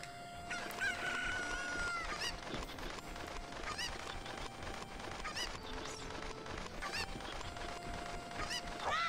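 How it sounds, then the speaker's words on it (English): Chickens in Ocarina of Time cluck and honk in a busy cluster of bird calls over steady game music and ambience, continuous throughout without talk. "Chickens."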